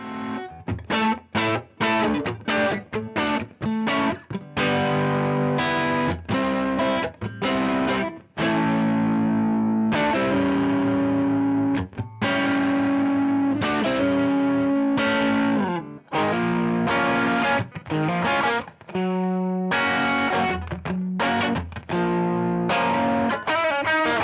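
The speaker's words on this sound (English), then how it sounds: "you almost get that fuzzy undertone sitting underneath the standard cleaner overdrive signal" An electric guitar plays chords and riffs through a budget overdrive pedal with blended fuzz, a gritty overdrive with a fuzzy undertone, loud and continuous, with brief pauses between phrases.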